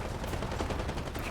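In War Thunder, an enemy tank fires on a 2S38 vehicle, producing dense, loud bursts of rapid gunfire that run without a break and sound close.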